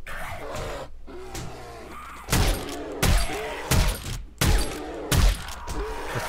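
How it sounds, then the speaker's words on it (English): Five loud gunshots ring out in the zombie survival game 7 Days to Die, fired in a spaced, uneven sequence over a low background rumble. "That's five more shots."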